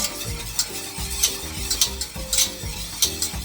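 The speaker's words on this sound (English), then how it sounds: "I'm going to whisk this up" Béchamel sauce being whisked in a pan over medium heat, a close, rhythmic scraping of the whisk against the metal, repeating about twice a second under a faint sizzle.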